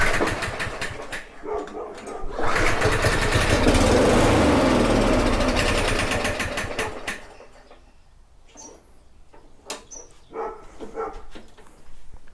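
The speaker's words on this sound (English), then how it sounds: "this engine just always feels clunky to me" A Yard Machine small engine, just given a valve adjustment, runs with a rough, loud clattering drone that swells and then fades away, followed by scattered clicks and a few dog barks in the quieter tail.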